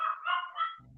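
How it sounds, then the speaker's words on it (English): A single dog gives a short, close bark, a quick yelping burst lasting under a second, with a low hum at the end. "I hear a barking."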